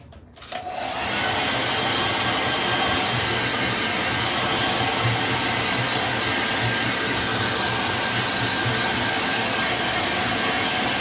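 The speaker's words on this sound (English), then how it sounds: "I'm going to use my hair dryer real quick." Handheld hair dryer used to dry a watercolor painting, switching on abruptly and then blowing in a loud, steady, close whoosh with a constant motor whine that continues unbroken to the end, with no talking.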